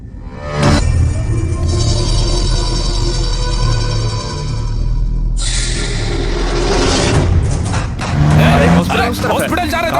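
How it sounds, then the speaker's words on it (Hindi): A car driven fast on the way to a hospital, its engine droning loud and close under an ongoing mix of voices, with shifting road noise and a surge of revving near the end. "भाई थोड़ा भगाओ ना गाड़ी।"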